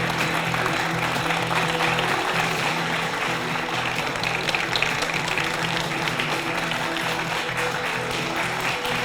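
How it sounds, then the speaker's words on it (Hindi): A studio audience claps warmly to welcome a Mahamandaleshwar guest onto a Hindi TV debate set: dense, steady applause that stays loud and even for the whole stretch, with no voices on top. "जोरदार तालियों के साथ स्वागत कीजिए"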